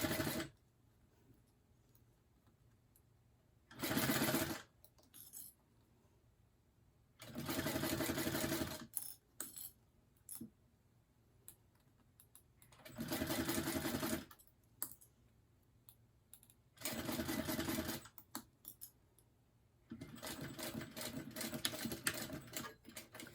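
A sewing machine top-stitches black vinyl along the edge beside a zipper's teeth for a purse, running in five separate bursts of rapid stitching, a few seconds each, with quiet pauses and faint clicks between.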